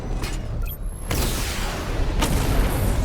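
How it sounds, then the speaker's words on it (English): Batmobile missile barrage in Batman: Arkham Knight, a loud run of booming explosions and rumbling blasts that swells after a brief quieter opening and keeps going at close range, with no speech. "Missile barrage level 1 ready."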